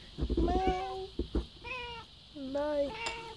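Several harmonic meows from a house cat, close and fairly loud, rising and falling in pitch over a few seconds, with a brief human vocal sound near the start.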